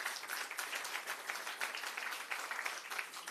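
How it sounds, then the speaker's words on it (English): Audience applause at a community launch event, a steady dense wash of many hands clapping throughout, moderately close and continuous with no talk over it. "So I want you to clap yourselves."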